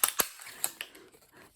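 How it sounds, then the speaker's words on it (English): Sturdy cardstock being cut with a 1-inch circle paper punch: several sharp, close clicks and clunks spaced irregularly, the loudest at the start, with fainter mechanical rattles between. "So I have this 1 inch circle punch."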